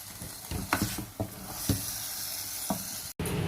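White chickpeas cook over a low flame in a pan, giving a steady soft sizzle with several short stirring scrapes and clacks spread through, close and fairly quiet.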